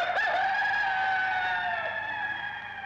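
A rooster crows once in a long, sustained call that is loud and close and slowly fades out.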